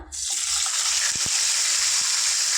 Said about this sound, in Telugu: ఆయిల్ హీట్ అయ్యాక ఒక హాఫ్ కేజీ టమాటా వేసుకుంటాను